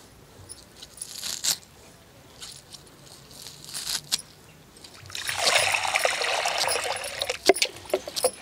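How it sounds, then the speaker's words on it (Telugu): Rice being washed in water in a home kitchen while snails are prepared, with light trickles and clinks, then a sustained sloshing, splashing rush of water for the last few seconds. "బియ్యం ఒకటికి రెండు సార్లు శుభ్రంగా కడుక్కోవాలి"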